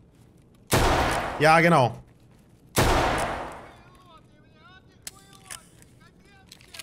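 Two loud revolver shots ring out about two seconds apart in Escape from Tarkov's Factory map, each trailing a long echoing decay. A short spoken reply falls between them, and faint clicks and metallic tones follow.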